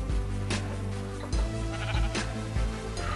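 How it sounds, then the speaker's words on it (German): Sheep bleating in Minecraft: several wavering bleats come at irregular intervals over a low steady drone, close and fairly loud, with no talk over them. "Was ist denn mit dem scheiß Schaf los?"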